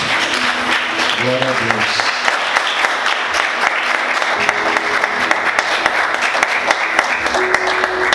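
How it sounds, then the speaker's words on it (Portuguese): A church congregation applauds throughout a sermon service, thick continuous clapping filling the room while a voice speaks over it. "Quantos podem aplaudir Jesus?"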